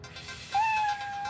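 A cartoon cat gives a single clear meow, rising then holding steady for about half a second, loud and close against a quiet background with no talking.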